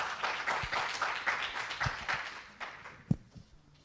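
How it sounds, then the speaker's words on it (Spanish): An audience at an international philosophy congress applauds a visiting doctor, a soft, fairly distant patter of many hands clapping that gradually thins out, ending with a few isolated claps and a louder single thump. "le damos un aplauso al doctor que vino aquí con nosotros."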